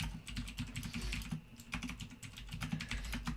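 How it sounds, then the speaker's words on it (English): Rapid keyboard typing during a Heroes of the Storm league match broadcast, steady clattering keystrokes close up over a low background hum, with no voices. "So as you can see, he's typing away"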